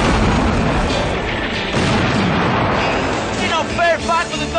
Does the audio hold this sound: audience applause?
no